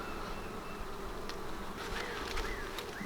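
Honey bees buzz steadily around an opened hive frame holding capped brood, with a continuous close, dense hum and a few louder individual bees passing near.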